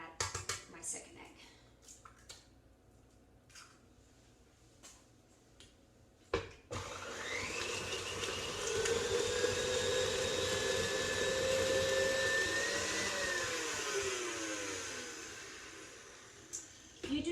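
An electric mixer whirs through chocolate chip cookie dough, starting abruptly after a few quiet handling clicks and holding a loud, steady motor drone with slight pitch shifts as it runs.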